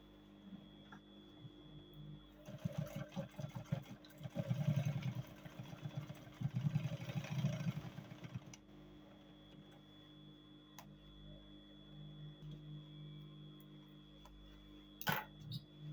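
A sewing machine top stitches the seams of handmade cargo pants, running in a quick ticking burst for about six seconds, pausing, then stitching again more faintly before stopping, with a sharp click near the end.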